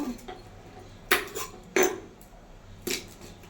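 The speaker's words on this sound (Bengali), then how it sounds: "আলুটা ছুলে নেব। সবজিগুলো কেটে নেব" Potatoes and vegetables prepared with a knife in a home kitchen, heard as a few sharp knocks and clinks against a board or dish, spaced apart over quiet background.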